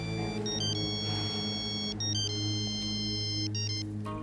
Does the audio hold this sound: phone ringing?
yes